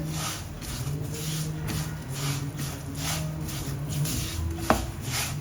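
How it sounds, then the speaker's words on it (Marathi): Barnyard millet (bhagar) dry-roasted in a pan over a low flame for upma, stirred with a spoon in a steady scraping, shuffling rhythm up close, with one sharper tap near the end. "आता मी ह्याच्यामध्ये भगर टाकते तरी आपल्याला मंदाचेवर तीन ते चार मिनटं अशी भाजून घ्यायची आहे"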